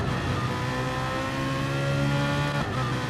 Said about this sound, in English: I thought I could hear a car in the background.